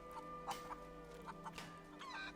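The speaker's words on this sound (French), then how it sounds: "Des poules." Chickens cluck in short, scattered bursts in the video game A Plague Tale: Innocence over a steady electronic drone, with a faint higher squawk near the end.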